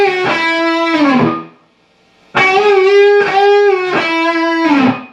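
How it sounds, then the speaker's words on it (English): Distorted electric guitar blues solo lick, with sustained bent notes in two phrases separated by a short gap, loud and alone. "The first measure of the solo will sound like this"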